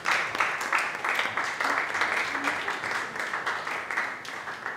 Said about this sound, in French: Est-ce qu'on peut applaudir pour mon jeune frère?